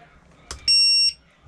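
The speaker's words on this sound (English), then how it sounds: "the alarm goes off" The lost model alarm of a Zohd Kopilot flight controller sounds as a loud, piercing electronic beep, cutting in sharply after a couple of faint clicks and starting again at the very end.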